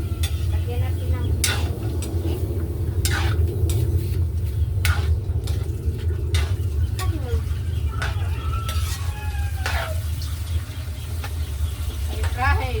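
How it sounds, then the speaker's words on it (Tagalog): Mung beans fry in a pan for a Filipino sautéed monggo dish, giving a steady low sizzle broken by repeated sharp scrapes and clacks of a spatula stirring, with voices talking over the cooking. "Monggo is fried."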